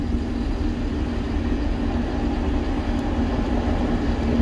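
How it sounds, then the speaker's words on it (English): Transport for Wales Premier train passing through Chirk station, a steady, loud rumble of wheels and engine close by, continuous throughout without a clear start or end. "Here's the Premier train."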